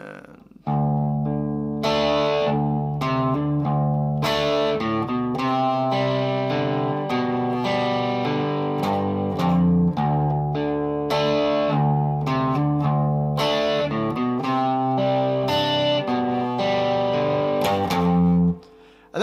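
A distorted electric guitar plays a riff slowly, with steady picked notes and chords ringing loud and close through effects, with no voice over them.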